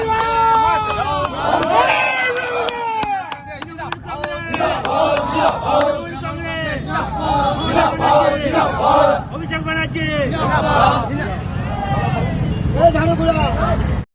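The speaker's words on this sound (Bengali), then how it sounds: "স্লোগান বন্দে মাতরম, বন্দে মাতরম" A large crowd at a political rally chants the slogan Bande Mataram in loud, repeated call-and-response waves, many voices shouting together without pause.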